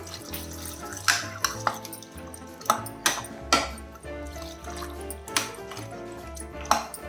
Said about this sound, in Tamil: இதில் வந்து தண்ணி சேர்த்துக்கலாம்.